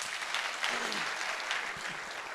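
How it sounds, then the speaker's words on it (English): An audience at a university MOU signing event applauds the speaker, a steady wash of clapping from a sizable crowd, moderately distant and even throughout the brief stretch. "Please, let's give him a big round of applause."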